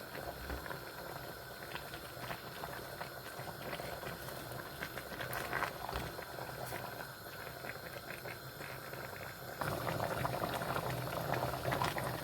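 A pot of tomatoes bubbles at a steady boil, close and quiet, a continuous gurgling simmer that grows slightly stronger near the end.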